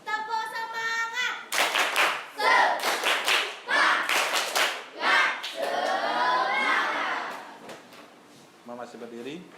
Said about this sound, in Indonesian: Kita iringi dengan tepuk semangat ya.